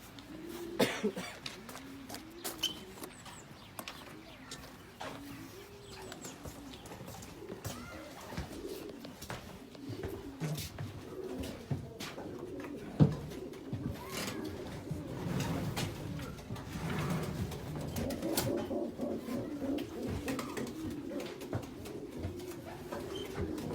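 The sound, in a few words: racing pigeons cooing in a loft box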